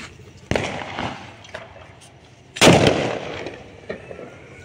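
Two sharp firecracker blasts, the second louder and longer with a crackling tail, plus a fainter pop near the end, over a quiet outdoor background.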